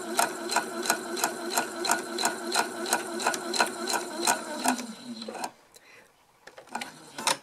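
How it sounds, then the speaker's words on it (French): A sewing machine stitching two layers of fabric along traced lines, a loud rhythmic mechanical chatter of even beats that runs close up and then stops, leaving quieter handling noise. "je vais donc piquer bien sur les traits"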